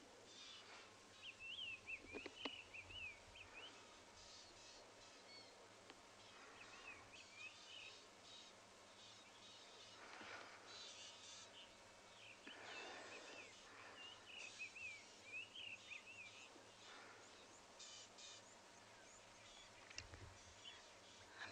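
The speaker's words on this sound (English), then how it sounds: "There's a fork-tailed drongo studying us, is making all the noise, watching us." A fork-tailed drongo calls repeatedly on a South African morning safari, its thin, varied chirps and whistles coming in scattered bursts at moderate distance over a low, steady vehicle hum.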